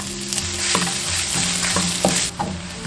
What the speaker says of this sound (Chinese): 下入姜蒜、干辣椒炒香。